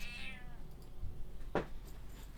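A cat in the World of Warcraft game gives a short, clear meow near the start, with a quieter second cry about halfway through, over faint ambient game sound.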